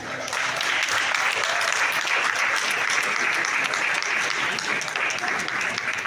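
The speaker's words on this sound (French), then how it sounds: "Avant qu'on leur demande des applaudissements très forts" Loud, dense applause from a hall audience at the FESPACO 2025 festival poster unveiling, starting abruptly and holding a steady roar of clapping to the end.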